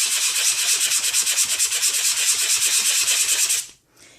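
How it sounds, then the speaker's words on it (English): A sanding block rubs quickly along the edge of a piece of papercraft paper, a close, bright scratching in rapid even strokes that stops abruptly near the end. "need is a sanding block or a piece of sanding paper, and you just rub along the edge."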